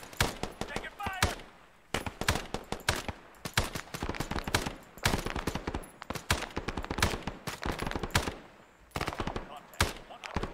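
Bursts of automatic gunfire in Arma 3 S.O.G. Prairie Fire, loud and close, coming in repeated rattling volleys with short pauses between them, and voices heard among the shots.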